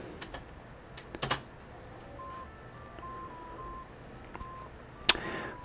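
Key presses on a computer keyboard controlling a ZX Spectrum game sound as scattered, sharp clicks over a steady hum, with faint electronic beeps and tones in between.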